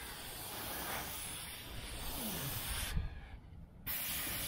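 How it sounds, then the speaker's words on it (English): An aerosol can sprays into the rusty roof lip of a 1972 Chevy Nova, a close, continuous hiss that runs almost without break, dipping briefly before resuming. "So I'm gonna spray in here real good."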